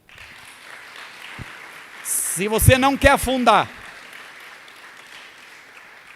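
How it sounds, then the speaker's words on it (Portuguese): A church congregation applauds in a steady, soft wash of clapping while a preacher speaks loudly over it in the middle. "Dê um aplauso a Deus."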